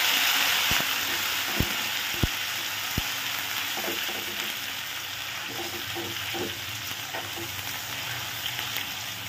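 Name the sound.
garlic, ginger and onion frying in a pan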